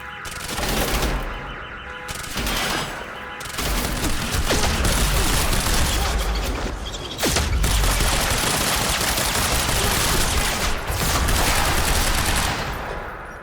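Sustained automatic gunfire from the Quantum Break video game, dense overlapping bursts and booms running almost continuously at close range, loud throughout with brief dips between volleys.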